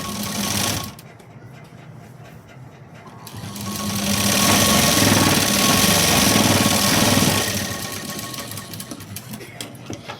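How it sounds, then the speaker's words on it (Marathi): A sewing machine runs a double seam attaching a sleeve, a loud, close, steady mechanical whirr that starts briefly, pauses, then hums continuously for several seconds before tapering off. "इथं मी डबल शिलाई दिली"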